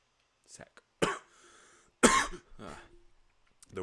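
Several sharp coughs come in short bursts with pauses between them, close and fairly quiet, mixed with a little throat clearing.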